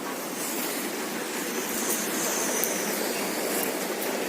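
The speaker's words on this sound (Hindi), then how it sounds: "बारिश हो रही है" Heavy rain falling outside on a dark early morning in Patiala, a steady dense hiss with no pauses, loud and close, with no talking.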